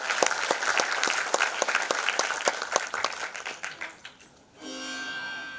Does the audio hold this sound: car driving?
no